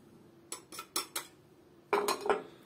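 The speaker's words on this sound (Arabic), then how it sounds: "هنزل على الخليط ده كله بقى اضربه ببعضه كده." A utensil clinks and scrapes against a bowl while spices, starch and flour are beaten into a batter for crispy chicken strips, four quick taps then a short cluster of louder strokes, close and with no talk.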